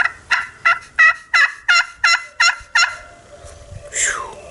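Slate turkey call yelping alone in a run of eight crisp, evenly spaced yelps, close and fairly loud, then a brief higher squeak.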